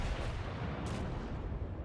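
A warship's main-battery salvo in World of Warships: a deep, heavy boom with a rumbling roll that fills the moment and fades out, close and loud, with no talk.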